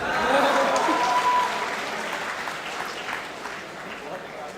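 An audience at a Hindi kavi sammelan poetry gathering in a college hall applauds poets, a burst of many hands clapping that slowly fades, with a voice speaking beneath.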